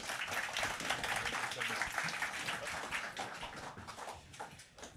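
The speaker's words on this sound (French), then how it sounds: "On peut les applaudir." An audience at a business breakfast conference claps for four panelists leaving the stage, a dense and steady burst of applause that holds for about five seconds before thinning out at the end.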